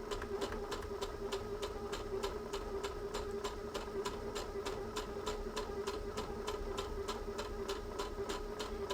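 A domestic sewing machine runs a securing stitch on felt, giving a steady, rapid mechanical hum with regular clicking needle strokes throughout, close and fairly quiet.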